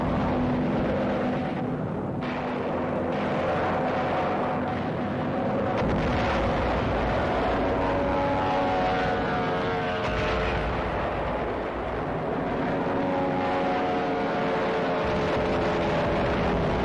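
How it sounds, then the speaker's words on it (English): Roar of Japanese land-based fighter and bomber aircraft massing over the sea east of Leyte Gulf, a dense, continuous engine drone with rumbling low end and shifting tones, steady and loud throughout with no voices. "Jap land-based fighters and bombers reinforced their sea strength."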